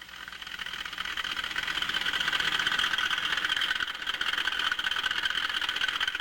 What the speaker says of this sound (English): Okay, the engine is idling pretty good.